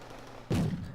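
Gunfire hitting an infantry transport in a strategy game, a single dull thudding impact bursting out halfway through over quiet background noise.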